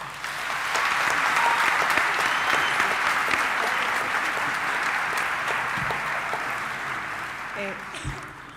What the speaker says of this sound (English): please help me with a clap free of praise for our Vice